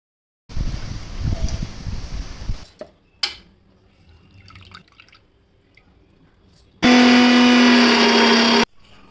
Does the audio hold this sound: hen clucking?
no